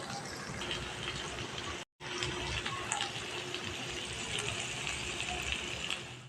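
Water pours into a pan of pointed gourd curry, a steady close gush and splash that runs almost without a break, halted only by one very short cut, and no voice is heard over it.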